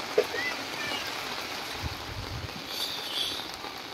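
Rainwater flows steadily around a flooded hut during monsoon rain, a continuous broad wash of water close by with a few faint knocks and no talk over it.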